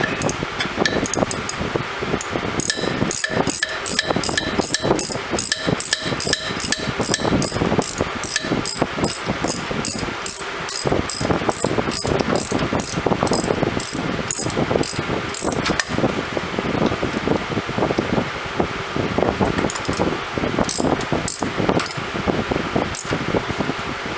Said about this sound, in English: we're going to screw these back in.